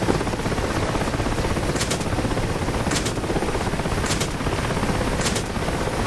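Steady, loud rotor and engine roar of a transport helicopter in the DCS flight simulator, continuous throughout with faint crackling bursts of gunfire mixed in.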